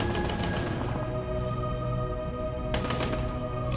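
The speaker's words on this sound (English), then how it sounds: "Noises of gunfire heard in rooms, piercing and killing lives." Gunfire effect in a battle scene of a Doctor Who audio drama, a dense continuous clatter of rapid shots under smoke-filled chaos, loud and sustained with a sharper burst of shots near the end.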